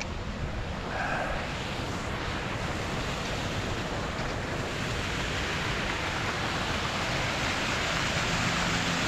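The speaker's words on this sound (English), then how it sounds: "cascade of water under us, spilling over the dam" A steady, dense roar of water cascading over a dam spillway at Memorial Lake State Park, Lebanon County, fills the whole clip, broad and continuous, close below.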